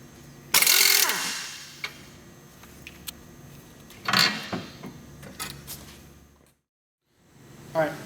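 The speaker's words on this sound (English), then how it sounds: "next we're going to take the nut loose from the tie rod" A ratchet with a 19mm socket loosens the tie rod nut on a VW MK4 steering knuckle, giving a burst of metallic clicking followed by scattered ratcheting clicks and clunks that fade into a short silence.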